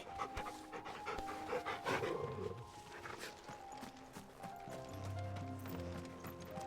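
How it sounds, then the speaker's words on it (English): A dog in Final Fantasy 16 panting while being petted, with rhythmic breathy pants alongside clip-clopping hooves and footsteps amid game ambience and music, fairly close, no speech. "No, I want to pet the dog."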